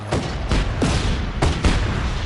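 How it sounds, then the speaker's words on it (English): Explosions and gunfire from the open-world action game Just Cause 3, a loud, dense barrage of booms and shots with several sharp blasts cutting through continuous rumbling across the whole stretch. "The explosions are quite satisfying indeed."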